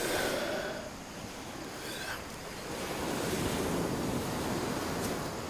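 Ocean waves wash continuously onto a dark sandy beach, a steady broadband roar of surf swelling and easing, with wind noise mixed in and no voices.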